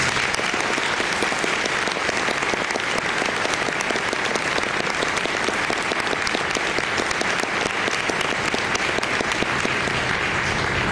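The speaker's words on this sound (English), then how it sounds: "if we could give a round of applause to our seniors." Sustained, dense applause from a concert audience for the choir's seniors, steady and loud throughout with no pause, filling the hall evenly for about eleven seconds.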